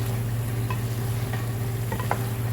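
Onion masala being stirred as it fries in a pan for chicken gravy, a steady close sizzle with a low hum beneath and a few scraping spoon strokes, no voices.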